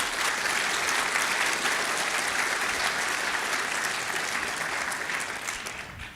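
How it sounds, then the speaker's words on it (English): Steady, dense audience applause after a Flux ecosystem conference demo, loud and even throughout before tapering slightly at the end, with no talking over it. "Give it a clap to Sanskar."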